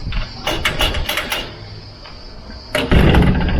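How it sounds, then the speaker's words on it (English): A door at a resort on a Greek island is pulled shut, with a few rattling knocks followed by a firm clunk of the closing and latch, close and loud. "close the door"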